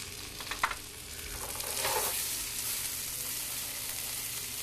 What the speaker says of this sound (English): So we're just going to let that cook down a little bit.